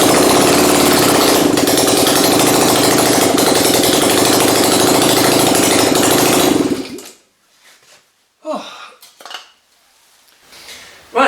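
A Yamaha XS650 bobber motorcycle engine runs loud and close with a dense mechanical clatter for about seven seconds, then cuts off abruptly, leaving a few scattered knocks and handling noises.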